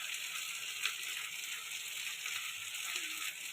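Ground spice paste sizzles steadily in a pan while being sautéed for a prawn and green jackfruit curry, a dense, continuous frying hiss with faint stirring scrapes and no talk.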